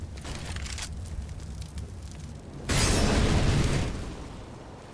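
Incendiary grenade bursting in Counter-Strike on the Dust 2 map, a low steady rumble followed by a sudden louder whooshing flare of fire that fades after about a second.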